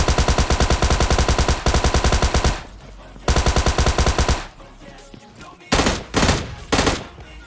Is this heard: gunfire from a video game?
yes